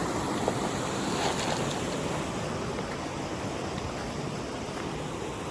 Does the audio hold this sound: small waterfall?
yes